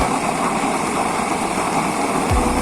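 A burner roaring steadily during a test fire inside a heavy-duty chamber, a loud continuous rushing drone that holds throughout, with a low thump near the end and no voices.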